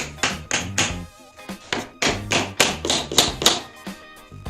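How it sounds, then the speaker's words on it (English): Wooden wedges tapped into place at either end of a tabletop glue-up as a makeshift clamp, about a dozen sharp close hammer taps in short uneven bursts, no voices. "just put them in on either end and tap them into place."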